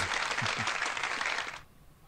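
A brief burst of dense applause from a small group, loud and close, cutting off abruptly after about a second and a half.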